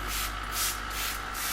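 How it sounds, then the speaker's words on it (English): A hand spray bottle mists the walls and glass of a dry-start planted aquarium tank, giving four or five quick, evenly spaced hissing spritzes up close over a low background hum. "So let's just spray the tank again"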